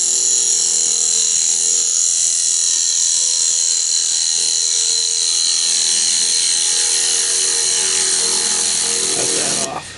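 A gouge cuts wood spinning on a lathe, with a continuous loud whirring hiss and a high tonal whine from the motor that hold steady for the whole stretch before cutting off abruptly at the end.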